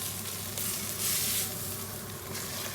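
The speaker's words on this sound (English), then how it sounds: "I'm just going to add that beef into the pan" Beef sizzling in a hot pan, a steady loud hiss and crackle of frying meat, close up and continuous with no talk.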